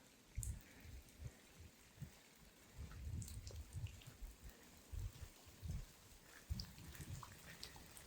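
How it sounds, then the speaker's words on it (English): Soft rain falling with scattered drops and low thumps on a surface, fairly quiet and irregular, with no voices. "The whole evening it rains."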